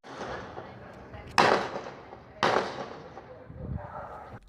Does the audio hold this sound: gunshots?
yes